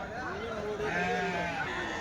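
Sheep bleat repeatedly at a busy Tuesday sheep and goat market in Kadiri, where the animals are mature ewes, with wavering calls overlapping close by against a steady crowd murmur and people talking.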